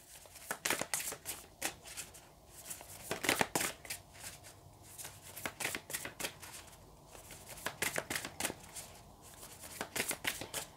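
A deck of tarot cards being shuffled by hand, repeated crisp riffles and flutters in irregular bursts, close and fairly quiet with no talking.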